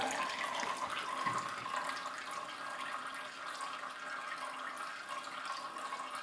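A quiet, steady rush of water running from a cold tap, unchanging throughout.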